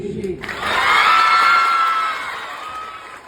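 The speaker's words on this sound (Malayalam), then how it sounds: "നമുക്കൊരു ടെസ്റ്റ് ചെയ്യാം ഒരു കയ്യടി ഫോർ ഷെയിൻ" A large event crowd roars for Shane, a swelling wave of shouting and high-pitched cheering that peaks after half a second and slowly fades over three seconds, loud and close.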